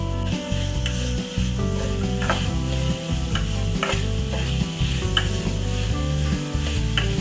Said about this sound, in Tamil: எல்லாத்தையும் ஒன்றா நல்லா வதக்கி விடுவோம்.